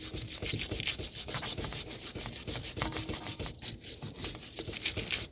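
Rusty rear brake hub on a 2019 Honda Civic 2.0 with electronic parking brake calipers being scrubbed, a continuous harsh rasping scrape in quick back-and-forth strokes, close and loud with no talking.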